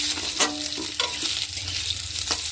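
Potatoes go into hot oil in a pot for a home-cooked fish curry, frying with a steady crackling sizzle while a spoon scrapes and stirs in a few distinct strokes, close and clear with no talking.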